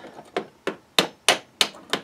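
Sharp hammer taps on a Silverado/Sierra center console lid during an aftermarket lid replacement, six distinct knocks at a fairly steady rhythm, close and clear.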